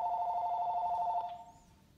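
A telephone ring in a reaction to popping a water balloon, a bright electronic trill repeating steadily for over a second before cutting off and fading, clear and alone.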